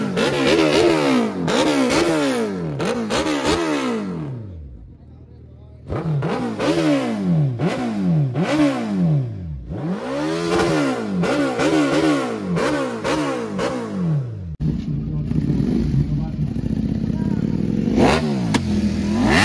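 Superbike engines at a bikers' meet-up, the Bengal Moto Fest, start and rev hard in repeated loud bursts, each throttle blip rising and falling, with a brief lull midway and nearby crowd chatter underneath.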